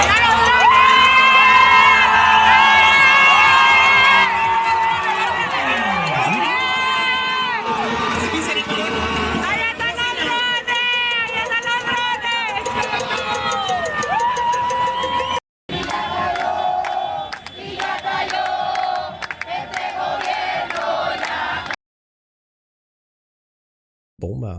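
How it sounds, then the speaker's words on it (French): A large crowd celebrates in the streets of Venezuela, with massed voices cheering, whooping and chanting loudly for a long stretch before cutting out in abrupt silent gaps. "là, tout ça, c'est de la foule"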